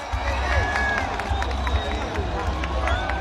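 A crowd cheers and claps at a night fire balloon launch during the Tazaungdaing festival in Myanmar, a dense, steady roar of many voices with scattered handclaps throughout.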